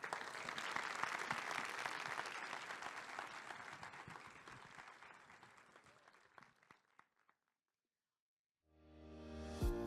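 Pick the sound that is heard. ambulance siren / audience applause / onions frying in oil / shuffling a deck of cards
audience applause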